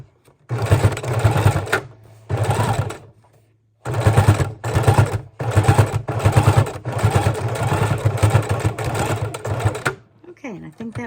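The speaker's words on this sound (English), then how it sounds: "we're going to come over to the sewing machine and put it right in there where the line is and try and sew right straight down that line" A sewing machine stitches down a line on a homemade mini journal, running in several close, loud bursts of rapid rhythmic needle clatter separated by short pauses, ending in quieter handling sounds.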